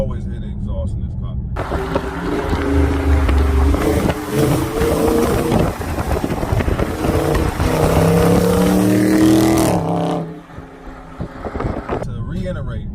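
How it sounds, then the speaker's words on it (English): A Dodge Charger Scat Pack Widebody's exhaust rumbles loudly from a low burble up to a rising drone under wind noise, then drops back to a lower idle toward the end, with talking over parts. "you can always hear the exhaust in this car"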